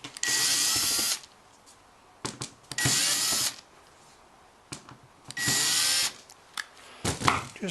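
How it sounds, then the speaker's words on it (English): A power drill backs screws out of a wooden storage crate in three long whirring bursts, each followed by brief clicks and handling knocks, close and loud. "Just removing the screws I had used for placeholders for this, for the paddle holder."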